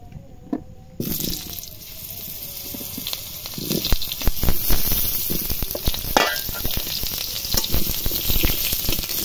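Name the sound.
potatoes frying in a wok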